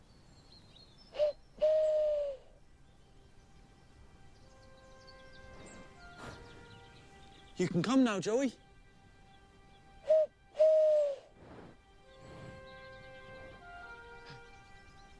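A person imitates an owl's hoot during a horse-training session, giving two sustained hooting calls a few seconds apart, with brief clattering noises and a short spoken line between them.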